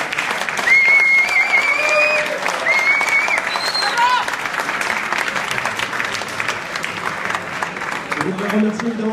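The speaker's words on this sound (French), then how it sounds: "Avec tous les applaudissements." Audience applause at the end of a live French music performance, steady dense clapping with cheers and whistles, vocal shouts rising over it and a voice near the end.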